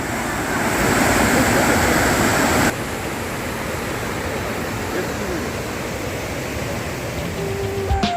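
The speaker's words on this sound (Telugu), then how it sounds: "అది మొత్తం పైకారా వాటర్ ఫాల్స్" Pykara waterfall in Ooty in full flow roars as a dense, broadband rush of falling water, loud and steady; the level drops slightly partway through but the torrent continues unbroken.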